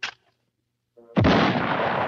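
A loud, close explosion sound effect bursts out after a brief pop and near silence, then rumbles on as a sustained roar.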